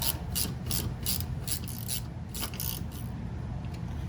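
Ratchet wrench snugging brake caliper bolts on a Toyota during a pad and caliper replacement, a run of quick metallic clicking bursts repeating close by at a steady pace over low background hum, with no talk.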